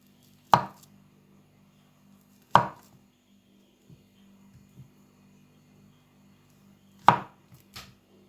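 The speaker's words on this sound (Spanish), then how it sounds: "vamos a ir cortando la banana. La vamos a cortar así." A knife slices through a banana on a cutting board in three sharp, separate chops spaced a few seconds apart, with a low electrical hum and a few faint taps between them.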